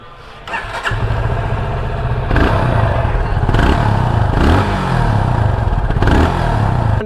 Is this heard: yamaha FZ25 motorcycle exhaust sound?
yes